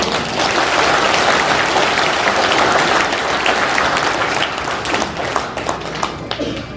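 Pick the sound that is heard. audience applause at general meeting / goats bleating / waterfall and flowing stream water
audience applause at general meeting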